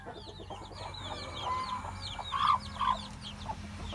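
Rhode Island Red chickens and chicks on a farmyard, soft clucks from hens mixed with high, thin peeping chirps from chicks, several overlapping calls close by against low background noise.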